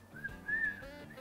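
A short, breathy whistle wavers up and down in pitch, close and fairly soft, with no talking.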